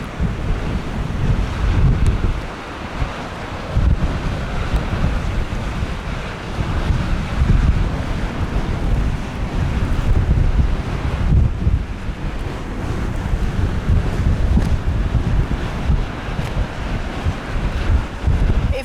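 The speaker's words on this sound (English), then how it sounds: "Oh no, the railings are blowing in the wind." Strong wind batters the microphone at the seaside in Tenby, a steady roaring rumble with gusts and surf-like wash throughout, loud and close, with no talking.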